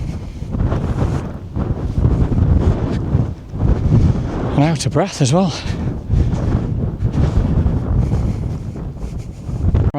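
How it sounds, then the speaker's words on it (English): Gusty wind buffets the microphone on an exposed hilltop at Mow Cop, a steady roar throughout while someone speaks briefly over it. "It's definitely windy up here"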